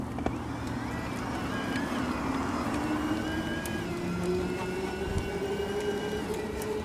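An Urban Arrow Breeze electric longtail cargo bike pulls away in its lowest gear in cargo mode, its motor whine climbing steadily in pitch over constant road and wind rush, loud and close throughout.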